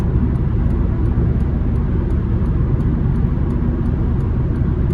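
A 2007 Honda Civic LX under acceleration, heard from inside the cabin as a steady, loud, low engine and road drone that holds evenly throughout, with no speech.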